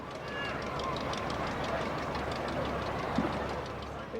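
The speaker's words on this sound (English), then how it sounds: "No air show in Finland is perfect without this Clem 25 trainer from the 30s." Klemm 25 trainer aircraft from the 1930s, its original Hirth engine replaced by a modern Continental, flying at a Finnish air show, giving a steady, loud droning engine roar that holds throughout with no talk.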